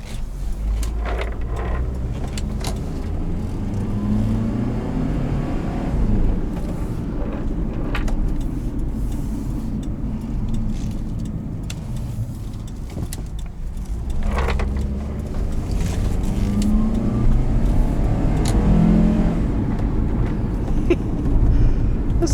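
A 2010 Honda Element LX AWD automatic being driven, its engine a steady low rumble with road and wind noise that swells as the boxy car accelerates, continuous throughout from inside the cabin.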